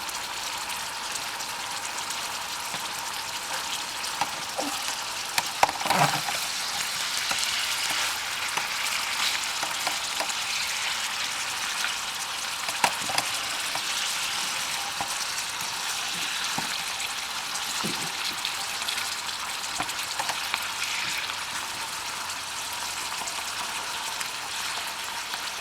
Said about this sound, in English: just listen to those fishy sizzle there